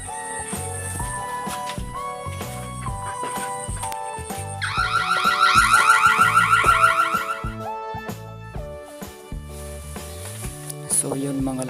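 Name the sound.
phone anti-intruder password alarm going off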